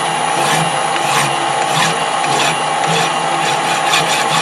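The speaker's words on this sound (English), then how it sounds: "see if I can get a bit of filing on" A hand file worked back and forth on a broken metal bolt, producing a steady series of close, rasping strokes in an even rhythm.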